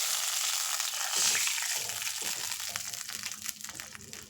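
Rasam is poured into a hot tempering of mustard seeds, fenugreek and dried red chillies. It bursts into a loud, close sizzle that breaks into crackling spatter and slowly settles.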